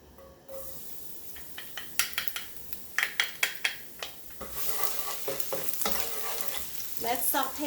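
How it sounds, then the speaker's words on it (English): Garlic sautéing in a hot pan for Thai pad see ew stir-fried noodles, a steady close sizzle with a run of sharp scraping and stirring strokes from a utensil against the pan, growing busier toward the end. "Let's saute the garlic first."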